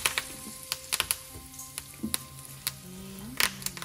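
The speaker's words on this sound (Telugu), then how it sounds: "కర్రీ లీవ్స్ కొంచెం వేయాలి, కొన్ని వేయాలి, 10 to 15 లీవ్స్ వేయాలి. కొంచెం పేలుతాయి చూసుకోండి." Curry leaves sputter and crackle in hot oil during tempering for tamarind rice, with a soft steady sizzle broken by sharp, scattered pops close by.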